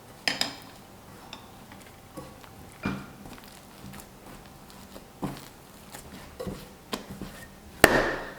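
Dough being kneaded by hand in a bowl after sesame oil is added, giving soft irregular thumps, pats and bowl knocks in an uneven rhythm, close by, with a sharper clatter near the end and no talk.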